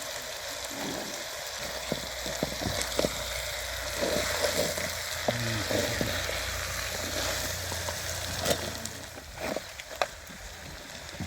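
Mutton bones fry with ginger paste for a curry, a continuous bubbling sizzle close by, punctuated by scattered ladle scrapes and clicks.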